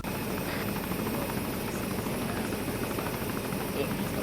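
A helicopter landing in the Arma 3 video game gives a steady droning rotor and engine hum with a faint rhythmic thump throughout, moderately loud and constant.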